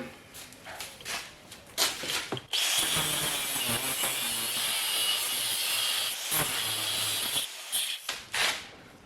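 A power tool cuts excess wood off a homemade body hammer in a workshop, a loud continuous whine running for several seconds between shorter bursts and clatter, close by.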